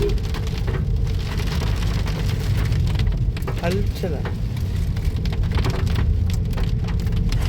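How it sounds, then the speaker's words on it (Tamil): Heavy rain pours down steadily during a hill climb near Chikmagalur, a dense and loud hiss with no breaks, with faint thunder-like rumble low underneath. "மலை ஏற ஏற ஏற பயங்கர மழையாக மாறிடுச்சு"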